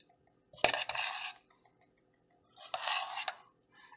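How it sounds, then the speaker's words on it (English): Ham is stirred into a pot of ham, cheddar, potato and tomato soup: two short bursts of scraping and clinking from a spoon against the pot, with a sharp knock at the start of the first, heard close with no talk. "let's throw in the ham. Stir that around a little bit."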